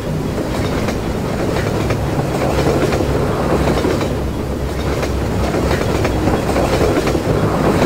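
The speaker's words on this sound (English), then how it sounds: "If I'm right, I have to jump on top of that train." A train in the video game Half-Life 2 rolls past loud and close, a continuous rumbling roar with rhythmic wheel clatter and metallic rattling that holds steady throughout.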